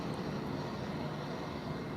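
A Lufthansa Airbus A321 taxis at Lisbon Airport, and its engines produce a steady, broad, droning rumble at moderate distance that holds constant throughout with no voices.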